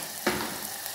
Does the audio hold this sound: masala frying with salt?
yes